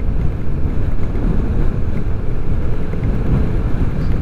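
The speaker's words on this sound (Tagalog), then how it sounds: "Kaso sobrang hangin. Medyo nadadala ako." Strong wind roars across the microphone during a motorcycle ride on a coastal road in Calatagan, Batangas, a loud, constant, low buffeting rumble with no talking.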